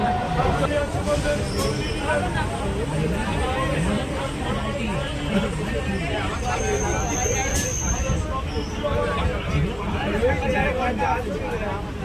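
Passengers chatter steadily in a busy carriage of the Sealdah–Baruipur local train as it reaches Baghajatin, with a continuous hubbub of voices over the rumble of the running train.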